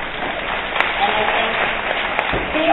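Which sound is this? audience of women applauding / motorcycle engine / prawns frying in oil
audience of women applauding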